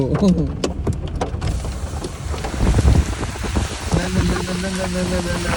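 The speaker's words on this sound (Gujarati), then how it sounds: "કરા પડે છે એ કરા ધીરે સ્નોફોલમાં ઉતરી જાય છે." Hail patters steadily on a hard surface amid gusty wind noise while a person speaks, the hail easing into snowfall in the Dalhousie hills.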